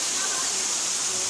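Waterfall at a falls in Batangas, water pouring steadily over rocks in a dense, even rush of white noise, close and continuous with no pauses.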